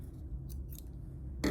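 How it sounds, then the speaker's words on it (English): Scissors snipping through yarn while making a DIY yarn snake craft: a single short, crisp cut lands near the end after a stretch of quiet handling noise. "you will need scissors to cut your yarn"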